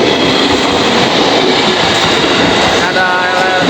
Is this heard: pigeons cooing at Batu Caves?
no